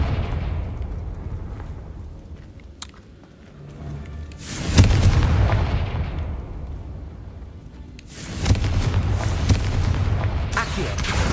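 Confringo spell explosions in Hogwarts Legacy, two loud booming blasts several seconds apart, each followed by a rumbling tail, with quieter game sounds between them.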